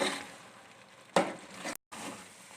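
Grated carrot halwa roasts in ghee with a close, steady hissing sizzle, broken by a louder stirring scrape and a brief pause before the frying resumes.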